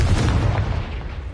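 A Confringo fire spell blasts in Hogwarts Legacy, a deep booming explosion with a rumbling low-end tail that fades over about a second.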